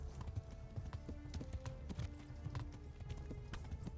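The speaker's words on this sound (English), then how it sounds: "I picked like the slowest horse that I could have chosen" A slow riding horse in Kingdom Come: Deliverance, hooves clip-clopping in an even walking rhythm along a stream, fairly quiet and with no voices.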